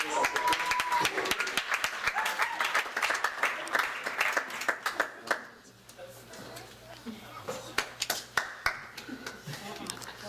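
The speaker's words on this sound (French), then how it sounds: "Est-ce qu'on peut applaudir pour le frère Joël et le frère Ryan?" A church congregation claps for two brothers, a dense burst of applause under a speaking voice that thins into scattered individual claps and a low hum in the second half.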